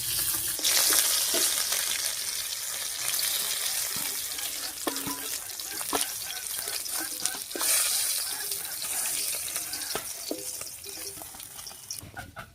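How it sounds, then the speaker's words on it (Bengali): Dried red chillies and black cumin sizzle as tempering in leftover fish-frying oil, a steady, loud crackling hiss that continues throughout with scattered pops and clinks close by. "এবারে মাছ ভাজার এই তেলের মধ্যে ফোড়ন দেবো, আর ফোড়ন দেবো 2টো শুকনো লঙ্কা আর কালো জিরা দিয়ে।"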